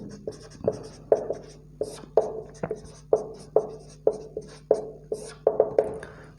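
Chalk or marker writing a definition on a classroom board, a steady run of sharp tapping strokes and short scrapes in an irregular rhythm, close and clear with no talk over it.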